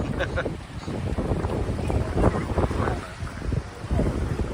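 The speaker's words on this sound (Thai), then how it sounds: "ไม่ร้อนนะลมพัดเย็นเลย" Sea wind blowing steadily at Pattaya beach, a broad rushing noise buffeting the microphone with a faint wash of surf and boats, while people talk throughout.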